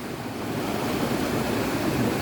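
Fast-flowing river water pours into a pool near a Highland bothy, making a steady, dense, broadband rush that stays even and continuous throughout, close by with no voices.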